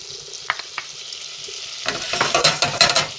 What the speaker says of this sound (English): place the butter in the pan and melt it. Next, add the flour